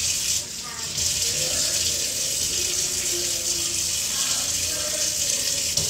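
Tap water runs steadily into a sink during dishwashing, a continuous close hiss and splash lasting throughout, with faint voices talking underneath.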